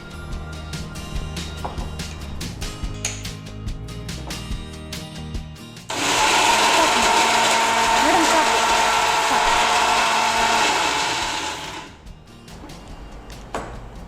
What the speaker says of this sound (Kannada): ಈ ಮೂರನ್ನು ಹಾಕಿ ಮಿಕ್ಸಿಯಲ್ಲಿ ಒಂದು ಗ್ರೈಂಡ್ ಸುತ್ತು ಮಾಡ್ಕೊಳ್ಳಿ.